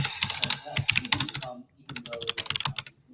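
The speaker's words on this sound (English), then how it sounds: "Some typing" Rapid clicking keystrokes on a computer keyboard come in two close bursts of typing separated by a brief pause, with faint speech in the background.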